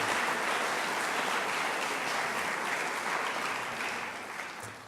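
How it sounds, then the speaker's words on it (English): An audience at a Memorial Day ceremony at the Nixon Library applauds, a dense, steady clapping that holds evenly and then begins to fade toward the end. "Please recognize their service with a round of applause."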